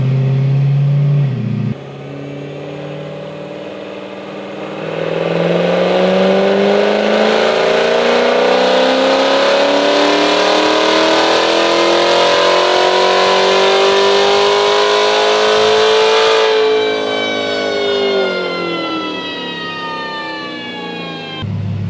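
A full-bolt-on C7 Corvette Z06 with a Kong X-Port supercharger on a stock upper pulley runs on a dyno, its loud engine pitch rising steadily through a long wide-open pull, then revving down as the throttle closes.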